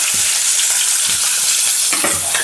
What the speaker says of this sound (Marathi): तेल गरम झालं, जिरे मोहरी, त्यानंतर टाकते कांदा.